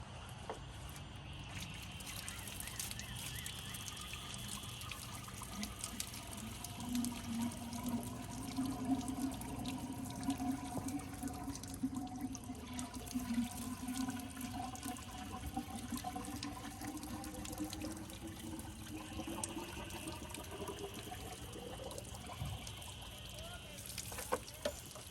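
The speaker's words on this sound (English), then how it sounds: "Plugged up some of the holes in the radiator, so we should be able to fill her up with some water." Water pours steadily into the leaky radiator of a 1916 Federal Motors truck for a long stretch, a soft continuous gurgling and splashing at low volume.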